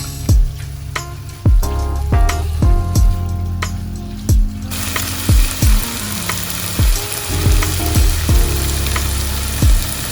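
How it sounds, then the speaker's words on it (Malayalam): Traditional Kerala white mango pickle simmering in a pan, a steady close bubbling sizzle broken by repeated sharp low clacks, likely a spoon or lid knocking, with no talk. "അത് ജസ്റ്റ് ഒന്ന് തിളയ്ക്കണം."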